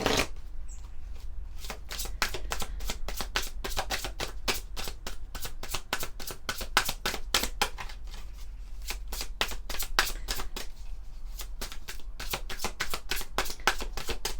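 Oracle cards are shuffled close up in a long, continuous run of quick, crisp flicking riffles that sound at an even pace for about fourteen seconds.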